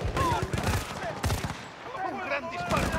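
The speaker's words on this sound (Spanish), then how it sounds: "Un gran disparo." Gunfire from the Xbox 360 shooter Battlefield Bad Company 2, rapid machine-gun bursts and heavy shots crackling densely through the span, with a voice talking under the battle noise.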